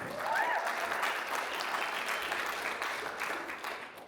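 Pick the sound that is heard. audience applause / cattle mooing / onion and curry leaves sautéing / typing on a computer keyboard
audience applause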